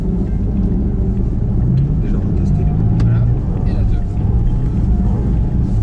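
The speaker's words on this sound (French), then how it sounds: "Et on est parti pour nos premiers tours en GT4 RS." Porsche Cayman GT4 RS with its 4-litre flat-six engine lapping a track: a steady, loud engine drone and low rumble runs throughout, overlaid by someone talking.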